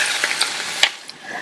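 A spoon scrapes and stirs potato curry with green chili and coriander leaves in a hot pan, a soft steady sizzle broken by a few light clinks and scrapes, close and without speech.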